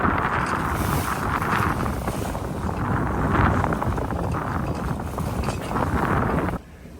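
A heavy motor sailer under sail in about 12 knots of wind, giving a steady broadband rush of wind and water noise over the hull that holds evenly for several seconds before dropping off abruptly near the end.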